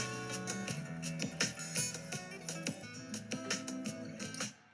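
Instrumental GarageBand recreation of a song plays steadily, with sustained harmonic layers under a regular percussive beat, fairly quiet and with no voice, ending abruptly near the close.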